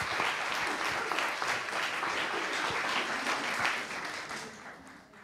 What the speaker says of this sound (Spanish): Un aplauso por todo lo que aprendimos.